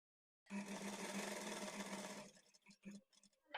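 A sewing machine runs a fast, steady burst of stitching along a blouse side seam, then stops, followed by a few soft clicks and handling sounds.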